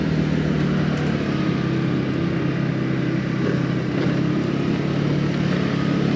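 An MBP SC 125 RE scooter pulls away on a ride, its small engine droning loud and steady with constant wind rush close to the rider, no voices.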